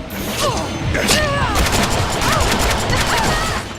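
Gunfire in the Deadpool PC game: rapid shots crack amid whistling, pitch-bending tones as the magazine runs dry, loud and busy with overlapping bursts.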